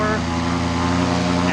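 A paramotor engine runs at full power during a training launch: a loud, steady propeller drone with a constant pitch fills the whole stretch, and a voice is heard over it.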